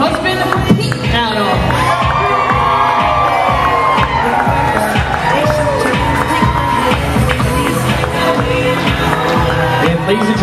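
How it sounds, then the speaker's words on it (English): Wedding reception guests cheer, whoop and clap in a loud, continuous roar as the groom's parents are announced. An amplified announcer's voice carries over the crowd. "how about a big round of applause for our mother of the groom, Penny Adams, escorted by her husband, Pete"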